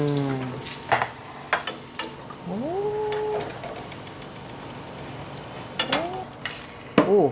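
Food dropped into hot oil in a home kitchen sizzles steadily at moderate volume, broken by a few clatters of utensils, with tonal sliding squeaks and brief exclamations from people nearby.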